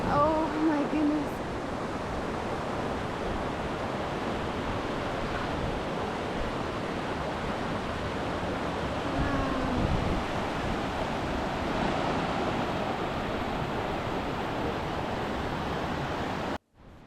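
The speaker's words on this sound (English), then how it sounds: "that river, the rushing water that's flowing down into Emerald Lake" A mountain river in the Canadian Rockies rushes down toward Emerald Lake, giving a loud, unbroken roar of churning water that holds steady for about sixteen seconds before cutting off abruptly.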